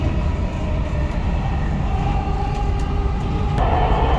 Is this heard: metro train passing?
yes